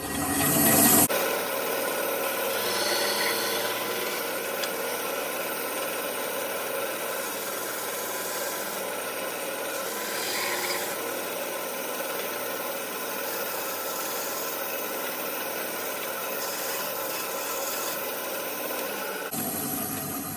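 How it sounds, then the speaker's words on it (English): Saw with a bimetal metal-cutting blade cutting a segmented pen blank, running as a steady, loud, continuous whine for about eighteen seconds between an abrupt start and stop. "I like using the metal cutting blade for many other things, and it works good for cutting stuff like this and wood."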